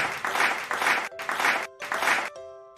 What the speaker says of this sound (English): Give yourselves a 5 clap.